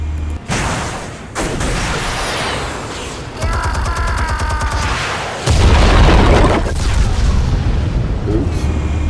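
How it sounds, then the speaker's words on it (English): Video game explosives go off in heavy booms and crackling bursts, with a loud deep blast near the end and a rapid rattling stretch in between, over game noise. "Explosives armed. Fire when ready."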